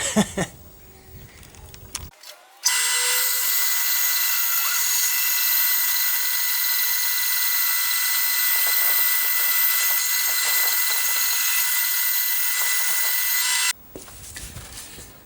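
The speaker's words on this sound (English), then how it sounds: "I'm going to cut through here on my bandsaw because I know this time there's no nails in this part." A bandsaw cuts through reclaimed timber, a steady high-pitched whine and hiss holding for about eleven seconds between quieter stretches of workshop noise at the start and end.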